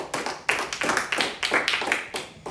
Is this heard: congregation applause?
yes